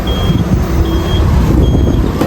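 A reversing lorry at a roadside hotel stop beeps in steady, evenly spaced electronic tones, loud and close, over a constant low engine rumble.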